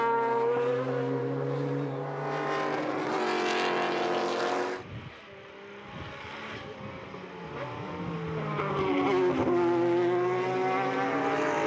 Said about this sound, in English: A good battle here on the track between the Mazda and the Nissan as they work their way up the hill.